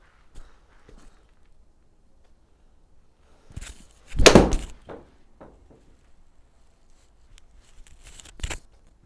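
A Cleveland hydrophobic wedge strikes Titleist Pro V1 golf balls, giving one sharp, loud impact near the middle followed by a second crack toward the end, with faint scuffs between.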